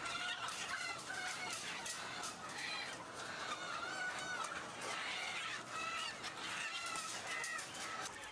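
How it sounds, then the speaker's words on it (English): A crowd of spent laying hens clucks and squawks without pause while farm workers load them into transport crates, a dense and fairly faint flock din. "spent hens are loaded into crates for transport to the slaughterhouse by farm workers"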